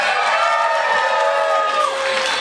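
A fashion show audience cheers loudly, a dense, continuous wash of shouts, whoops and high-pitched screams from a close crowd filling the whole moment.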